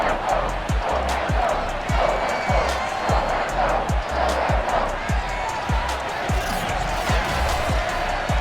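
A sold-out stadium crowd roars in Madden NFL 22 as the Patriots face the Jaguars. The cheering is a steady, full wash under rhythmic thumping beats.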